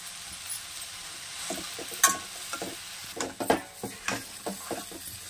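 A spatula stirs chapati pieces with onion, tomato and green chilli in a pan, giving soft scrapes and a few sharper clinks against the metal, close but quiet over a faint sizzle.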